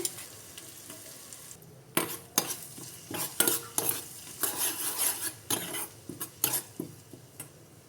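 Green chilies, ginger and curry leaves sizzle in hot oil over a medium flame, with a steady frying hiss broken by repeated sharp scrapes and clinks of a spoon stirring against the pan, no voices.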